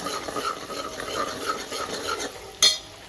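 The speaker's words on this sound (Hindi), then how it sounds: "तज, तेज पत्ता, अच्छे से इसे हमें भून लेना है।" Cinnamon and bay leaf with onion being stirred and roasted in a pan over a full flame, a steady soft scraping and sizzle with a brief sharp metallic clink near the end.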